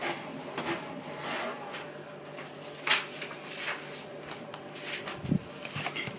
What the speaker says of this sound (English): you can hear my printer in the background there spitting out the paper.